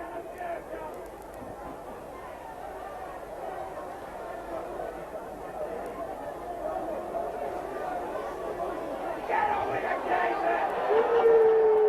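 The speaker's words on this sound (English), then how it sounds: "Lots of angry shouts and angry faces in the crowd in front of me." Angry crowd at a Warrington v York rugby league match, a steady dense roar of shouting and jeering from spectators packed along the barrier, swelling louder toward the end with boos rising over it.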